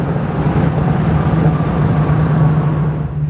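Burgundy 1965 Mustang A-code 289 V8 convertible pulling hard after a downshift, a steady loud low engine drone holding throughout with no voices.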